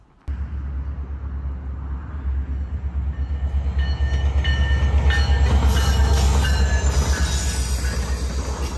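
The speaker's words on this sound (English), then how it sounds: "check out an oncoming train" The Coastal Classic train rumbles past close by at Beluga Point, Alaska, after a sudden onset, low engine drone building with metallic clatter and faint wheel squeal as the cars roll through.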